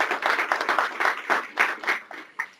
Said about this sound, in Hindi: आज जोरदार तालियां बजाएं.